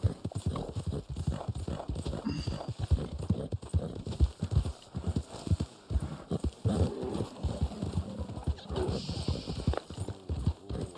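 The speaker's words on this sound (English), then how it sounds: "Come on, horses, go!" Horse hooves gallop in quick, steady clip-clop beats in the Red Dead Online western game, loud and continuous throughout, with a voice talking over them.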